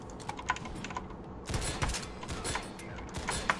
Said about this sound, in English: So this will occasionally fire missiles. Drunk missiles that go around things